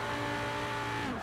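A Chevrolet Corvette C8 racing in the video game Forza Horizon 4, with a loud, sustained engine drone that holds a steady pitch and then drops slightly at the end of a brief burst.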